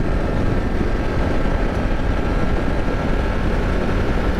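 A 2024 Kawasaki KLR 650 with a single-cylinder engine and no ABS rides along a gravel road, giving a steady, loud broadband rumble with engine drone mixed into road and wind roar, constant throughout and with no voices.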